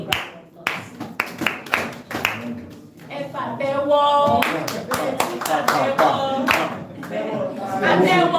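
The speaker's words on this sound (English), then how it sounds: "Please give him a big round of applause." Applause at a police press briefing for the Inspector-General of Police, a crowd of hands clapping loudly and steadily, with a few voices calling out and chatter mixed in among the claps.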